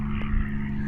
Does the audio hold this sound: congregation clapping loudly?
no